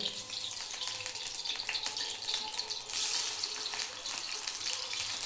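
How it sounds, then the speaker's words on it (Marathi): Garlic hits hot oil for a stuffed brinjal dish, giving a steady, close, bright sizzling hiss that swells briefly midway and carries on evenly without any talking. "तेल तळलेलं तेल आहे. चला लसूण टाकून घेऊया."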